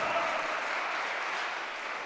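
An indoor crowd claps steadily at a one-wall handball final, a dense, even round of applause with no voices over it.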